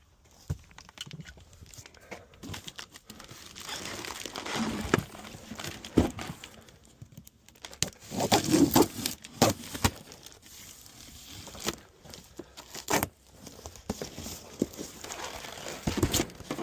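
Packaging is handled while unboxing a 67-pound Vevor sheet metal brake, with bursts of crinkling, tearing and rustling, scattered knocks and thumps, and quieter pauses between.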